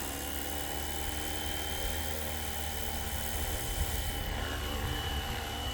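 A 3D printed MD500 RC helicopter with a Flywing controller takes off, its rotor and motor giving a loud, steady whirring drone that holds close and constant throughout.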